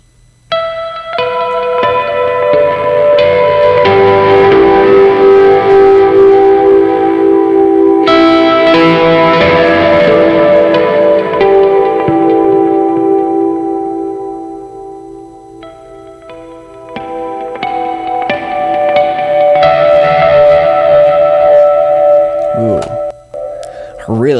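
Electric guitar played through a Neural DSP Nolly amp model set for power tube breakup distortion, with two long sustained chords ringing out and decaying, followed by a further strummed phrase, loud and up close.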